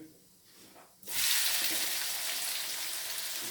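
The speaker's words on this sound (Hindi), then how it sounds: "इसमें जो है ना ये प्याज हम डाल देंगे" Chopped onions drop into hot oil in a pan for a mutton dish, setting off a sudden loud burst of hissing sizzle that continues steadily after a quiet start.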